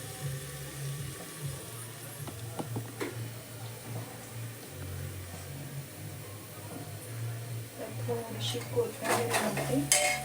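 Masala roasting and being stirred in a cooking pan for spiced rice (masale bhat): steady close clinks and scrapes of a spoon against the pan over a low hum, with a few sharper clatters toward the end.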